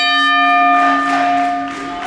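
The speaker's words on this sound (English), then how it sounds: "As the bell is a little loud today, Kevin, apparently." A pro wrestling ring bell rings once loudly and close, a bright metallic clang that sustains with ringing overtones and slowly fades, heard alone.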